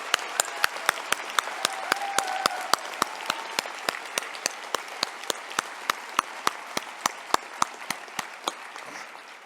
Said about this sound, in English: Let's give another round of applause for our 2022 graduates.